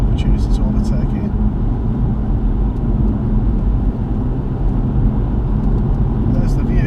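Car driving on a Scottish road with a steady low engine and tyre rumble from inside the cabin, with a voice talking over it throughout.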